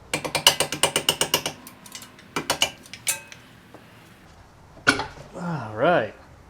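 Ratchet loosening a strut bolt on a Subaru WRX, a fast run of about a dozen sharp metallic clicks followed by a few slower clicks and clanks, close up, then a brief voice.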